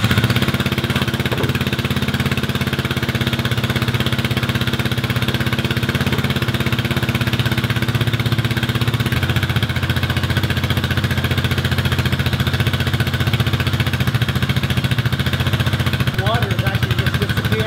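An engine with a wrapped exhaust header runs steadily and close by, a constant loud mechanical drone with a rough, chugging texture, and a brief higher sound near the end.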